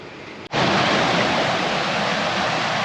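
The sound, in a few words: New River flowing in the gorge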